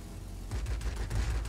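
Aircraft cannons on an IL-10M in World of Warplanes firing in a rapid burst, low and thudding, starting after a half-second of engine drone and continuing steadily to the end.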